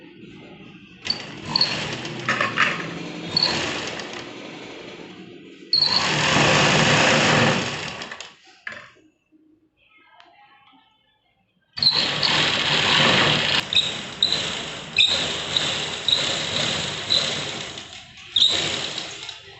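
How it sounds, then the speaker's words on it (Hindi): A sewing machine stitches the waistband of a palazzo in two long bursts of rapid mechanical whirring and clatter, close and loud, with a quiet pause between them and no talking. "अब हम इसकी स्टिचिंग करते हैं"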